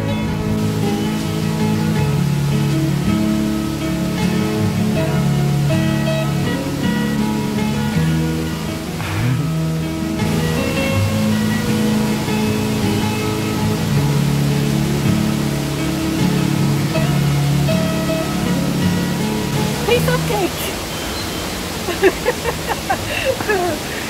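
Steady roar of a waterfall, the third of Los Tres Cascadas near Boquete, Panama, filling the whole stretch as continuous broadband rushing water, with voices talking faintly over it.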